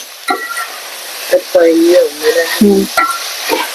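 Onions sizzle and are stirred in a hot pan at home, a close, loud crackle broken by several scraping strokes of the spoon, with a voice speaking briefly over it.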